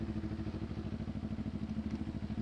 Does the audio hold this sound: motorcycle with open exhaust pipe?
yes